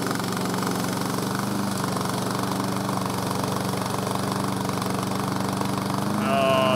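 A small remote control lawn mower's engine runs steadily and loudly at close range, droning on without a break and rising slightly near the end.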